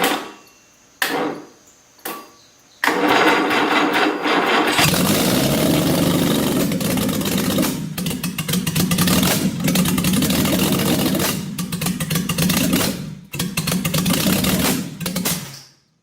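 A rebuilt junkyard engine in a homemade boat-tail speedster cranks in several short bursts, then catches and runs loud and close, with uneven surges and a few dips before cutting off.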